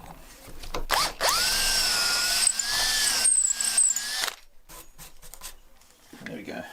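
A drill driving a 7mm bit into wood for a wood carver's screw gives a loud, steady whine that rises in pitch, runs for about three seconds and then cuts off, followed by quieter handling noises.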